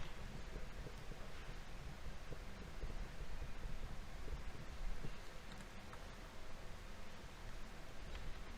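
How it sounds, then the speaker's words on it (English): Strong wind outdoors at a surveying site with a total station and tripods, a steady rough rumble and buffeting hiss across the microphone, continuous and fairly loud with no voices. "Also, it's very windy outside."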